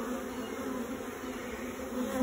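Honey bees buzz steadily on a hive frame while orphaned bees are rescued from a hive with moth damage, producing a close, continuous, even hum with no talking.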